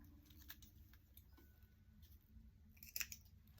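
Scissors trim thread on a handmade notebook in a quiet room, making a few faint, close snips. A sharper clicking cluster comes near the end.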